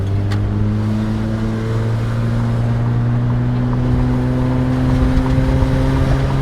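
A high-mileage Toyota Sienna minivan cruises with a steady, close engine drone and road hum, pitch holding level then edging up as it pulls through the gears, continuous and untroubled for several seconds.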